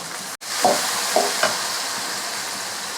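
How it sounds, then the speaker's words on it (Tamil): Tomatoes and onions sauté in a pan for crab masala, a steady soft sizzle broken by a few brief scraping stirs of the spoon, close and without talk. "தக்காளி சேர்த்து தக்காளியும் நல்லா வதக்கி விட்டுக்கலாம்"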